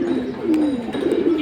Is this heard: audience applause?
no